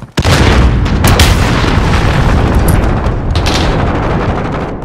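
A missile explosion in Call of Duty: Modern Warfare (2019) hits with a sudden loud boom, followed by a dense, roaring rumble of gunfire and blasts that fades slightly over several seconds.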